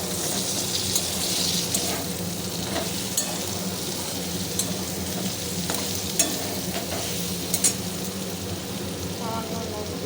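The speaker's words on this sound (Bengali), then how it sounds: "ঢাকা দিয়ে আবার একটু নেড়ে নিই।" Vegetables frying in a pan for a Bengali sabji bhaji, a continuous sizzle with a few scraping strokes of a spatula and light clinks as they are stirred, close and steady, with no talking.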